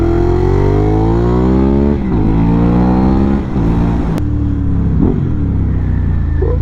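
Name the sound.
Ducati Hypermotard motorcycle engine revving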